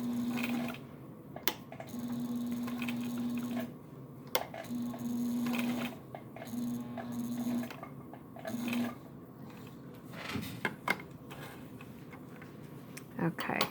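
A sewing machine stitching thick leather and vinyl with Tex 70 thread, short bursts of humming motor and needle ticking broken by pauses, with sharp clicks and handling noises between runs.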